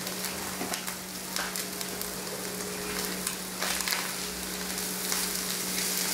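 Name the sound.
ground beef and oat bran frying and toasting in a pan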